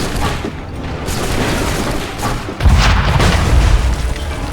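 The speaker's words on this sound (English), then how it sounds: "A perfect shot!" A heavy boom of a gunshot in the video game Assassin's Creed III Remastered, a loud single blast with a rumbling tail after a stretch of steady background noise.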